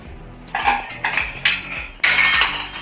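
Several loud metallic clanks and scrapes as a metal cake pan is set down and shifted inside a pressure cooker, in four or five distinct hits.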